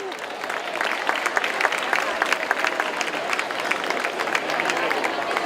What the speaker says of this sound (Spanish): Sisplau, un fort aplaudiment.